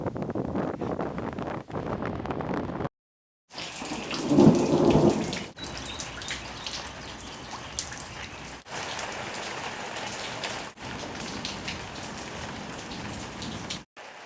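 Steady rain pours down in a loud, close, continuous hiss, with a deep rumble of thunder rolling in early on and the rain carrying on alone afterwards.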